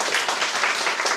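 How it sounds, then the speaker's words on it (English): An audience in a class session on Rizal's novel applauds two presenters, with brief, steady, fairly close clapping from many hands and no talk over it. "Okay, so can we clap for the two?"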